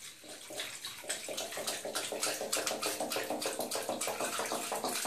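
Water pouring from a bottle into a condom that fills and swells, a continuous splashing, gurgling stream that builds in level over several seconds, close and fairly quiet.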